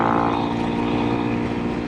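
A Honda CRF 250 Rally dirt bike gives a steady, loud engine drone with a buzzing tone throughout, cruising at constant speed nearby on rural roads.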